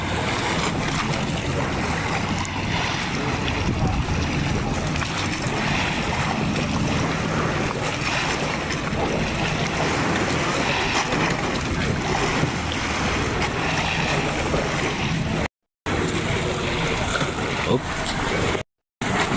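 A fishing boat out on the open sea, heard as steady broadband engine and wind noise with waves, continuous and close, with voices talking over it.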